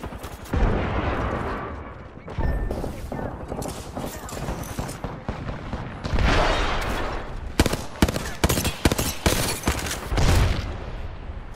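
Dense gunfire from the Apex Legends video game rattles almost continuously, with bursts and sharp shots layered over a busy battle mix while a player talks over it.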